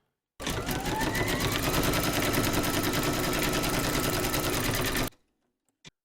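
An embroidery machine stitches a mandala design in light brown thread on a hooped fabric, with a loud, rapid mechanical rattle running steadily for about five seconds before stopping abruptly, followed by a couple of faint clicks.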